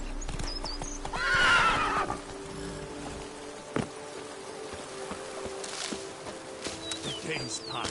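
Roach the horse gallops in Witcher 3, hooves clip-clopping over the ground while a loud neigh rings out near the start, followed by steady hoofbeats and a few faint bird calls.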